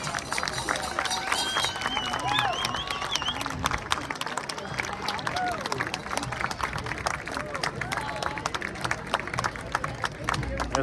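Festival audience clapping continuously in a large open-air crowd, a steady wash of applause mixed with crowd babble and a voice over the noise throughout.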